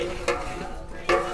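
Spiced meat and yogurt being stirred in a large pot for tehari, two distinct scraping strokes over a steady low sizzle, close and loud with no voices.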